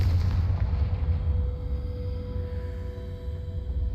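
Confringo fire spell blast in the video game Hogwarts Legacy during Rockwood's trial: a deep, booming explosion rumble that fades into a sustained low roar with faint tonal ringing, no speech.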